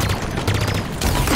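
Dense gunfire from the video game Halo Infinite, loud overlapping shots and booms packed into a very brief burst.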